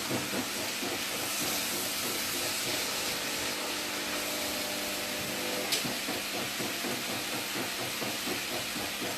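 A kitchen machine gently mixing flour and butter for a courgette and goat's cheese crumble, a continuous whirring, hissing drone with a faint rhythmic churn, steady and close with no voices.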